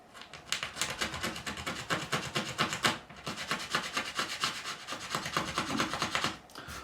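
Steady, rhythmic scraping strokes work a filled patch on a guitar body smooth and flat, close and fairly loud with a brief pause midway.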